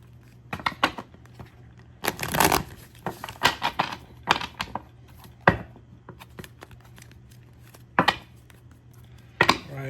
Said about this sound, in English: we're going to give this another shuffle here.